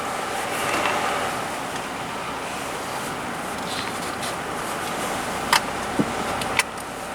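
A car cruises slowly around a state park campground in winter, giving a steady low engine and road hum from inside the vehicle, with a few small clicks near the end and no talking.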